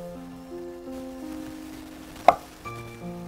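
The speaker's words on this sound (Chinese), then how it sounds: "香菇的蒂头把它切下来" A knife slices through the stems of soaked, squeezed-out shiitake mushrooms on a cutting board, giving one sharp, close chop under quiet kitchen background with faint music.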